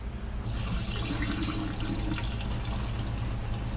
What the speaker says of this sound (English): I just pour water in there, stir it, pour that off